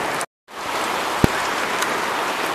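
Hail falling outdoors over a vegetable garden during a June storm: a steady, dense hiss of pellets with one sharp louder tap partway through and a brief dropout near the start.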